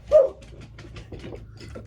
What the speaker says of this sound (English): There goes my dog barking at the farmer next door.